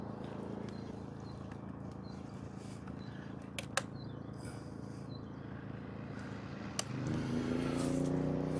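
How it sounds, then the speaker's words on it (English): A DINKING DK2300i-M inverter generator hums steadily under an electric heater load, a continuous low drone with faint clicks, rising in pitch and loudness near the end as the load changes. "Okay, I heard the generator."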